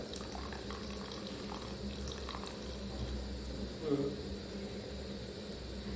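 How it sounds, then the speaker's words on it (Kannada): Coconut milk is poured into cabbage palya cooking in a pan, giving a quiet, steady liquid bubbling with a brief splash partway through. "ತೆಂಗಿನ ಕಾಯಿ ಹಾಲು ತೆಗೆದಿಟ್ಟಿದ್ದೇವೆ ಅದನ್ನು ಹಾಕ್ತಾ ಇದ್ದೇವೆ ನೀರಿನ ಬದಲು"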